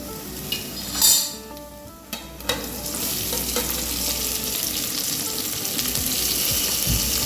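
Sliced onions sizzle in hot oil in a pan for vegetable biryani, a steady crackling fry with a few sharp clinks of a utensil against the pan near the start.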